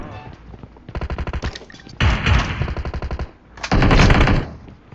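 Bursts of rapid shotgun fire from a video game, in three dense volleys separated by short pauses, loud and close.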